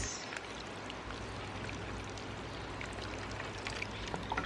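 Water pouring steadily from a watering can onto freshly planted Supertunia Latte petunias in a garden, a close, continuous soft splashing stream with faint trickles and no voices.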